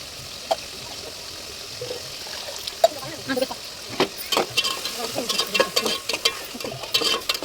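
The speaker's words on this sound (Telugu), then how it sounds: "నీళ్ళు వేసండి" Water poured into a simmering masala paste curry for kushka rice, giving a soft trickle with stirring and light sizzle, moderately near, while a voice talks over it.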